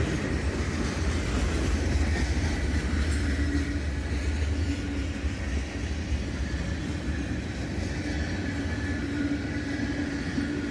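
A CSX southbound freight train led by a pair of GE locomotives, an ES44AC and an ES44DC, rolls past close by with a loud, steady rumble and continuous wheel clatter for the whole stretch.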